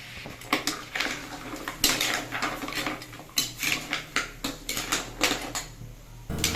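Sautéed clams stirred in a metal pot, with quick repeated scraping clatter of a utensil and shells rattling against the pot, close and busy throughout.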